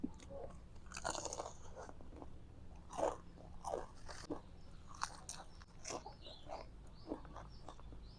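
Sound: crunching on a giant crispy fried spring roll

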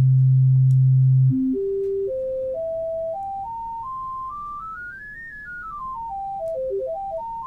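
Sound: synthesized sine wave harmonics

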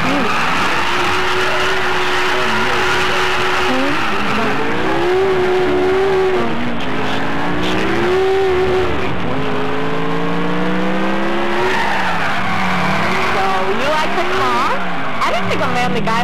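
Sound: car driving in video game Grand Theft Auto IV

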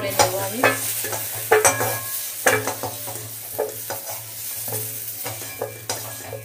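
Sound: potatoes frying in oil being stirred

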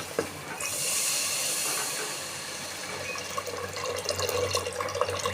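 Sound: water poured into potato gravy

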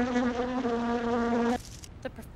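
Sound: bee buzzing

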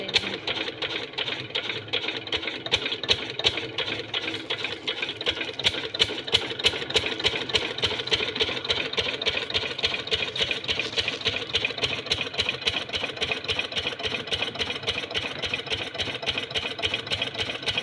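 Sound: diesel engine running on a farm

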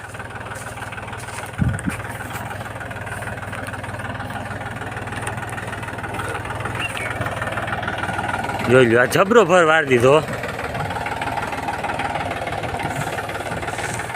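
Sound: tractor engine running

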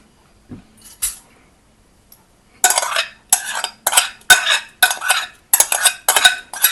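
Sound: hot peppers being tipped into a saucepan

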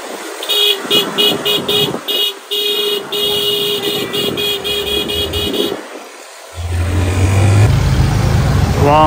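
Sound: street traffic with honking, riding a motorbike in Haiti

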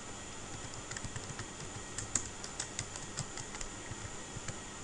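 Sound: typing a title on a computer keyboard in Word

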